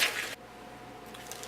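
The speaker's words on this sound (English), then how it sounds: "And mix it all up until it's nice and gooey." Gooey brownie batter being stirred in a bowl gives one short, wet squish up close, then fades to quiet room tone.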